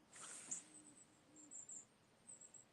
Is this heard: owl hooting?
yes